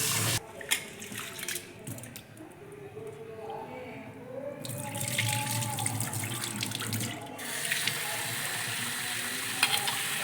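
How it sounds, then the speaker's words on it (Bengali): Basmati rice being washed in water at a kitchen sink, with running tap water and splashing of grains in a bowl, moderately loud and steady, with a voice speaking over it. "আর চালটা ধুয়ে নিচ্ছি।"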